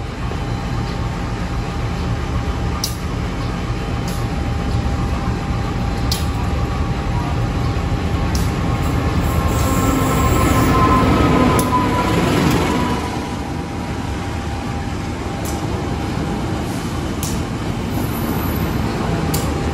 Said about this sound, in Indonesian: Saya pulang naik kereta ini lagi, teman-teman.